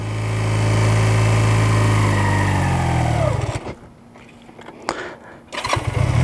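A motorcycle engine revs loudly and steadily as the rider lets off the clutch, then drops away to near silence with a few brief mechanical clunks and a short burst of revving at the end.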